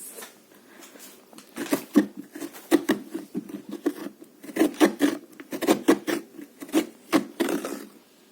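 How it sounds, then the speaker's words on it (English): Metal spoon scraping the inside wall of a carved pumpkin with both hands, close and rough, in repeated short rasping strokes that grow denser and more forceful toward the end. "You just got to scrape with a spoon as hard as you can"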